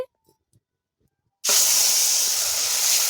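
Ground tomato paste hits hot oil in a pan with a sudden loud, steady frying hiss that starts after a quiet moment and carries on unbroken while it is stirred.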